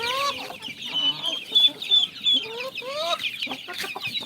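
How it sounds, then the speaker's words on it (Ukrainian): Several chickens cluck and squawk nearby in overlapping bursts, with higher chick peeps mixed in, busy and fairly loud. "Такі вредні курчата кричать, кури кричать."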